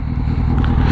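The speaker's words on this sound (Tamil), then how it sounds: "எக்ஸாஸ்ட் நோட்டு கேட்டு பார்ப்போம்." A Kawasaki Z800 motorcycle's exhaust burbles close and loud at a steady idle, a deep, throbbing rumble with a slight rasp and no voices over it.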